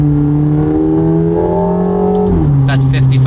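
A McLaren 750S supercar's engine drones loudly at steady revs, then the pitch drops sharply on a gear change and climbs again, with a voice talking over the engine noise.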